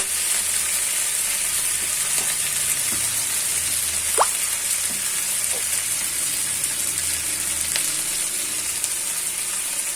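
Onion sizzles and fries steadily in hot oil in a pan for Odia alu chop, a dense continuous crackle with a few small pops and scrapes, close and fairly loud, no voices.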